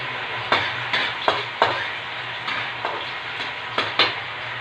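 Garlic and onion sautéing in a pan, a low continuous sizzle broken by about eight sharp scrapes and taps of a spatula against the pan at an uneven pace, close and without talk.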